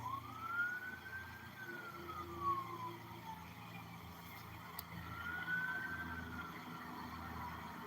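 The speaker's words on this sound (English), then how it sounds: "Oh, the sirens." Emergency vehicle sirens wail at night, a distant rising and falling tone heard faintly in two sweeps over a low background hum.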